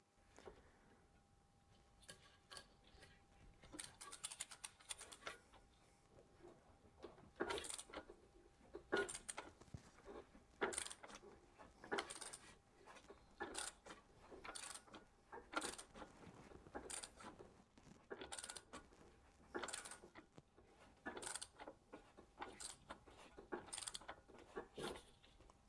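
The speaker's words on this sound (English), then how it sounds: "So crankshaft round 6 times, clockwise, so righty-tighty." Renault Clio 1.2 16v crankshaft turned by hand, giving a faint, steady series of ratcheting clicks and mechanical ticks repeated every second or so over a quiet background.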